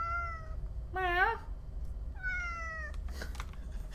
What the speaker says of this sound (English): She has this permanently distressed, just miserable little meow.